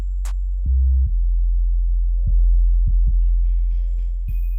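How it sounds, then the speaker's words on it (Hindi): A sewing machine stitches the shoulder seam of a kurti, its steady low motor hum broken by rhythmic thumping pulses in short runs. No voices are heard alongside it. "अब शोल्डर की सिलाई लगाएं।"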